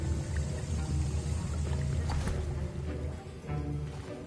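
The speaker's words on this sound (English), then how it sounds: "I see most of you have not forgotten how to stir." Potion being stirred in a cauldron in Hogwarts Legacy, a steady liquid sloshing and swirling churn with soft bubbling, continuous and close, no talking over it.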